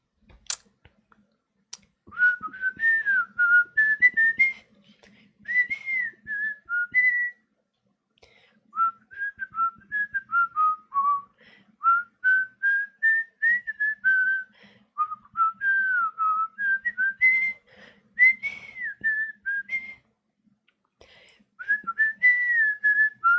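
A person whistles a lively tune alone, in clear, close phrases separated by short breaths, with faint clicking in the background.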